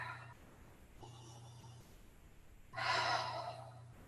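Deep, slow breaths taken during a breathing exercise in a quiet indoor setting, with soft airy inhalations and one louder breath near the end over a low steady hum.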